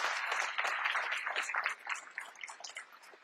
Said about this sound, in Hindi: एक जबरदस्त तालियां इन सभी अचीवर्स के लिए